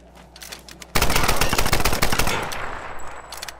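Rapid automatic gunfire in the Tomb Raider: Definitive Edition video game, with a sudden loud burst of dense, repeated shots that starts about a second in and continues to the end, preceded by quieter ambience.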